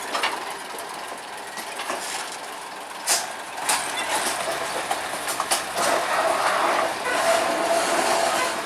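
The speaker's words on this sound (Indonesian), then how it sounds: "masinisnya mendorong dua lori sendiri" Two rail carts pushed by hand along a railway track rumble and clatter steadily, with metallic clicks and knocks from the wheels on the rails rising toward the end.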